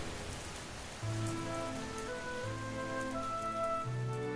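A heavy storm downpour hisses steadily across the whole stretch, with soft sustained musical tones underneath and no voices.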